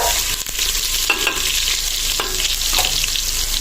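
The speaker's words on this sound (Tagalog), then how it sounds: "Gigisa lang natin itong bawang." Garlic sautéing in a pan: a loud, continuous close sizzle of hot oil with a few soft stirring knocks, no talk.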